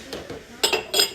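White ceramic dishware in a discount shop clinks and knocks together as pieces are handled, a few short bright clatters close to the microphone, the last two louder.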